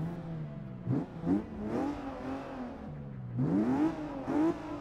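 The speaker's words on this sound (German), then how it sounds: "Ich würde sagen, wir lauschen mal kurz dem Sechszylinder." Six-cylinder car engine in the racing game Forza Motorsport 6, revving in repeated rising pulls with short throttle lifts between them, close and steady, with no one talking.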